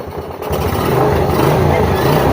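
A Honda XRM125 motorcycle with a hard-starting, misfiring engine catches after a short cranking burst and settles into a loud, close, steady running rumble while someone speaks over it.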